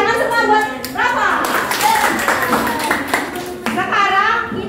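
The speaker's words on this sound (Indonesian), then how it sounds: "Tepuk tangan semua buat Rafa" Schoolchildren in a class clap for a student, a burst of many hands applauding close by, mixed with chatter and a children's voice.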